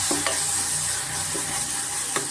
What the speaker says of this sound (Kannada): ಚೆನ್ನಾಗಿ ಫ್ರೈ ಆಗಿ ಮತ್ತು ಸಾಫ್ಟ್ ಆಗಬೇಕು ನೋಡಿ